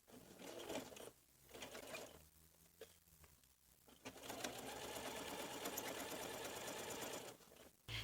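A sewing machine runs in bursts while stitching the placket of baby overalls: a short run, a pause with a few clicks, then a long steady whirring stretch before stopping, close and alone.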